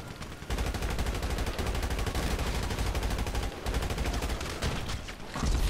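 Sustained automatic gunfire in the video game GTA Online, a dense rapid burst of shots rattling loud and close for several seconds with only brief gaps.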